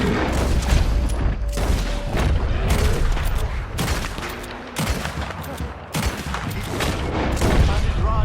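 Gunfire rattles through a Red Dead Redemption 2 video game scene in repeated bursts and booming shots, loud and close, with voices shouting in between.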